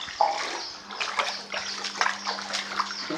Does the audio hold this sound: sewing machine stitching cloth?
no